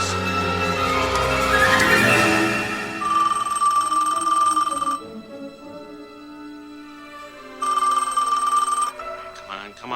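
An old-style telephone bell rings unanswered in a movie scene, two long loud rings separated by a pause, following a stretch of swelling music at the start.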